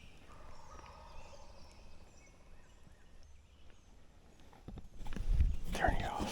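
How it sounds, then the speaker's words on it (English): Wild turkey gobbles sound faint and far off in open Missouri country during spring turkey season, followed by a louder rustling burst near the end. "that sounds like a good gobble"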